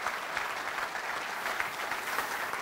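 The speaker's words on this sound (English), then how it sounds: "Give a round of applause for that." Audience at a Little Rock Touchdown Club meeting applauds, a dense steady burst of many hands clapping at even loudness for a couple of seconds, with no voices standing out.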